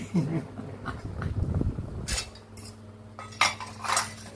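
Dishes and cutlery being washed beside the speaker, with scattered clinks and clatters of plates and utensils against a sink, moderately close, alongside kitchen clatter and a faint voice in the background.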